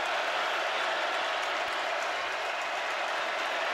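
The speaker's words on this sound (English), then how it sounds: "Georgia crowd coming to life for their defense." A stadium crowd roars for the home defense at a 2018 Florida versus Georgia college football game, a dense, steady wash of cheering and noise heard from a distance.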